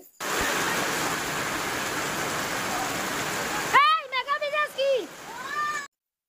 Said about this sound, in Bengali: এই যে দেখুন অঝরে বৃষ্টি পড়তেছে